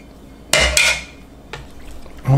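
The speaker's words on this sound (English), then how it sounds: "Let's kind of scrape it out. I want every last little drop of my honeybee honey." Utensil scraping honey from a mixing bowl while making cornbread: two sharp clanking scrapes close together, a fainter one after a pause, then another knock at the end, all close and with no talk.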